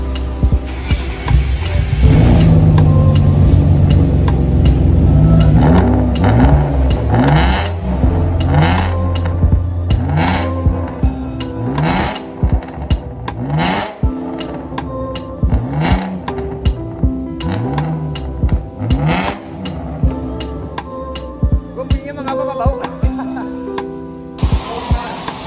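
A car revving with a newly installed exhaust resonator, throaty engine swells rising and falling in repeated bursts, loud and close, with a low steady drone underneath.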